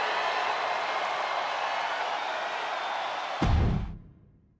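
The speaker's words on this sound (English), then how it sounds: "The sound of this crowd is deafening" Loud, dense crowd roar fills a wrestling video game arena, holding steady before cutting off abruptly near the end and leaving a low rumble that fades out.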